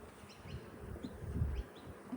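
Honeybees buzz around an opened hive, a faint, steady hum with individual bees droning past up close, swelling briefly in the middle.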